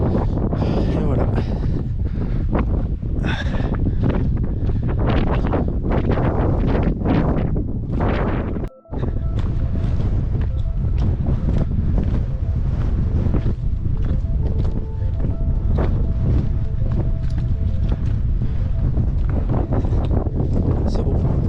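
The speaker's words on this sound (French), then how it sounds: "Par contre, le vent, c'est stylé." Strong wind buffets continuously along an alpine hiking trail in the Vosges mountains, roaring loudly and close with gusting rushes and a brief cutout midway.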